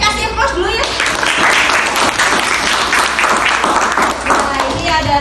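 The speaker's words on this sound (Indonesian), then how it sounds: "Kasih aplaus dulu ya" Applause from a class of students in a school lesson on social norms: dense, steady clapping that fills the whole stretch loudly and evenly, fading slightly at the end, with no talk over it.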